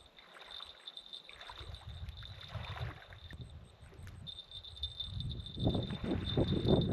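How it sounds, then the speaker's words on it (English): A kayak paddled on water at a free camp in northern NSW, with soft repeated paddle splashes and water swirl close by, strengthening toward the end, over a faint steady high tone and no speech. "let's go for a paddle and see how that goes"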